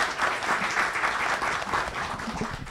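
Soft, steady applause from a seated audience at a housing investment forum, with even clapping that continues for a few seconds.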